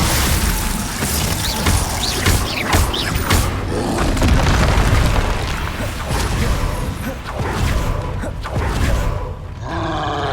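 Loud, dense magical blasts from a Confringo explosive spell in Hogwarts Legacy, with repeated booming impacts and crackling bursts over a steady, rumbling battle din and grunting creatures.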